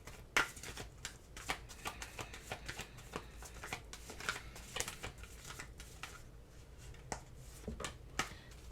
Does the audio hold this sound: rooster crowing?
no